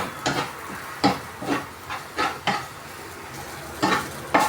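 Eggs scrambled in a pan for Filipino-style fried rice, with sharp, irregular scrapes and taps of a utensil over a soft sizzle, close and clear, no talking.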